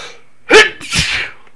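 A single sharp human sneeze, close and loud, made of a quick inhaled catch and then a breathy burst. No one talks over it.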